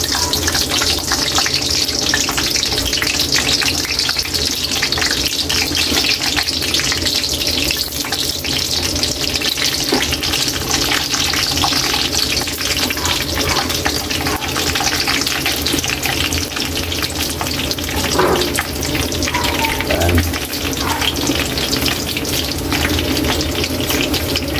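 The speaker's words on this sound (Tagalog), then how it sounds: "Habang nagpo-fried na naman tayo kaili ng talong" Eggplant slices fry in hot cooking oil, making a steady, dense sizzle that holds at an even loudness throughout, close up and with no talking.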